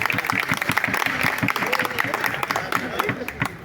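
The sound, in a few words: audience clapping loudly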